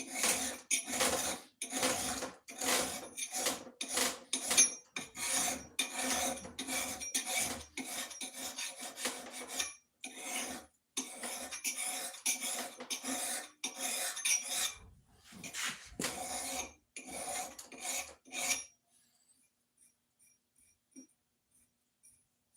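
An axe edge is sharpened with quick, repeated rasping strokes worked side to side, loud and close in bursts with short pauses, then falling silent near the end.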